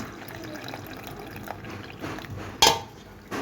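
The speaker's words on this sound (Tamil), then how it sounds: "இந்த புளி தண்ணி ஆட் பண்ணிக்கலாம்." Tamarind water is poured into a pot of paruppu rasam, giving a faint, soft liquid trickle with a few sharp clinks of a vessel, the loudest near the end.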